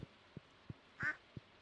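A duck on a Stardew Valley farm lets out one short nasal quack between evenly spaced soft thumping steps, fairly quiet and close with no voices.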